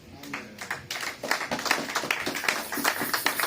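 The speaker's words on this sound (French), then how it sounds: "Acclamez pour Jésus." A church congregation at a Sunday service claps and cheers, a dense, lively patter of many hands building from a softer start into steady, loud applause.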